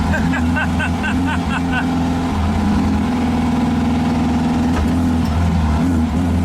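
A 1915cc VW Manx buggy driven fast, its air-cooled engine a loud, constant buzzing drone heard from on board with rising and falling pitch, no talking.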